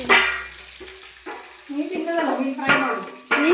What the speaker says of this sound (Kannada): ಅಮ್ಮ ಇಲ್ಲಿ ಅಡಿಗೆ ಕೋಣೆಯಲ್ಲಿ ಮೀನು ಫ್ರೈ ಮಾಡ್ತಾ ಇದ್ದಾರೆ